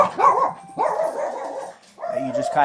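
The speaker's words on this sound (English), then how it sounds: "wait for the puppy to stop barking." A puppy barks and yips in short bursts, close by, with whining tones between the barks.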